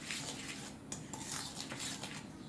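Cake batter made with eggs is stirred in a bowl, giving soft scraping and light clinking of a utensil against the bowl, quiet and close, with no talk.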